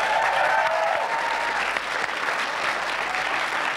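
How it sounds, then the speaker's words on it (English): A TV studio audience applauds returning guests on a 1994 Rock Eisteddfod special, with loud sustained crowd clapping throughout, dense and even, with a brief dip midway. "Give them a round of applause."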